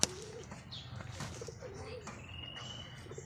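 Pigeons and young pigeon chicks cooing and chirping nearby in a loft, soft coos and thin calls scattered over a low background hum with a brief thump at the start.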